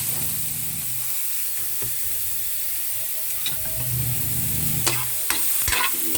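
Garlic and onion sautéing in a pan for Filipino kare-kare, a steady broad sizzle with intermittent stirring scrapes and clinks, close and moderately loud throughout, no talking.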